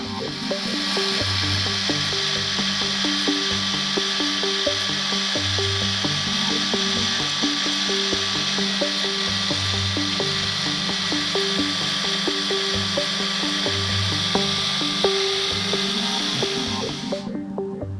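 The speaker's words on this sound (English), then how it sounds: "The bandsaw itself, though, it's one of the loudest pieces of equipment in the shop." A bandsaw runs steadily through wood in a shop, a loud continuous whine and hum with a throbbing low rumble, lasting unbroken until it cuts off at the end.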